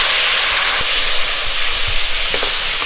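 Hot oil with turmeric, green chilli and Kashmiri red chilli powder sizzles steadily as a splash of water is added for a vegetarian mango and pointed gourd curry, a dense close hiss with a few brief spits.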